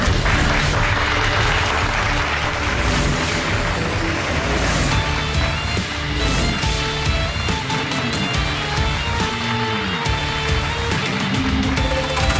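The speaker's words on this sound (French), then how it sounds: "veuillez applaudir le patron de la société" An audience breaks into sustained loud applause for a company boss at a formal event, with dense clapping running throughout alongside some scattered noise.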